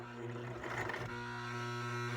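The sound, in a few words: sewing machine sewing straight stitch on cloth diaper elastic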